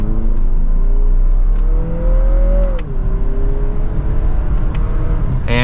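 A 2023 Lexus NX350 F Sport accelerates hard from second gear, its engine note climbing steadily as revs build, heard from inside the cabin as a continuous loud drone with a brief dip mid-pull.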